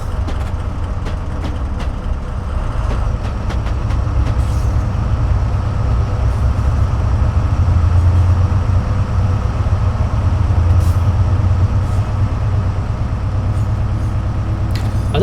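BR Class 70 PowerHaul diesel locomotive in Train Simulator, hauling a coal freight train on the South Wales coastal route, giving a loud, steady engine drone and rumbling wagons throughout, with no talking.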